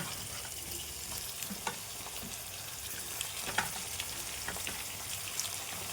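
Chicken pieces frying in oil in a pan for a Vakya chicken curry, a steady close crackling sizzle with small pops and stirring clicks throughout, no talking.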